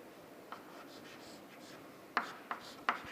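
Marker or chalk strokes on a classroom board during a surveying lecture, a faint scratch, then three sharper writing strokes near the end over quiet room hiss.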